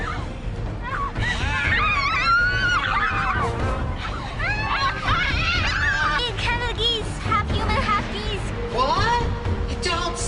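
A giant Canada goose in a video game, in a pond, honks loudly and repeatedly in a dense, continuous run of calls for about ten seconds.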